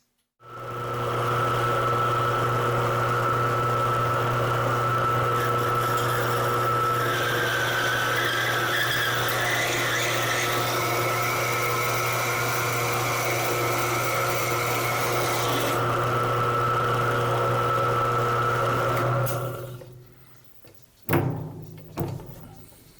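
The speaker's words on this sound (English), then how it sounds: "we'll try and see if possibly I can't make a little hole in the end of this without breaking the bit" Small drill bit boring a little hole into the end of a piece of wood on a small bench machine, a steady motor whine running for about twenty seconds before stopping, followed by a few faint knocks.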